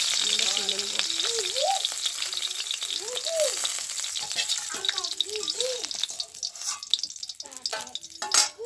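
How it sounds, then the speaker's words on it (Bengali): Singhi fish half-frying in hot oil in a pan, a continuous close sizzle with crackling pops, briefly overlaid by a few short tonal squeaks or clinks near the start. "আমি মাছগুলো খুব বেশি ভাজবো না আধ ভাজা করে ভেজে নেব"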